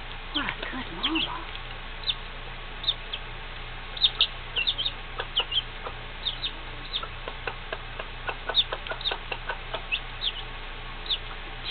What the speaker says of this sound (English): Chickens have close to 60 different vocalizations.